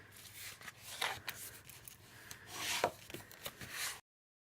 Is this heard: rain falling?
no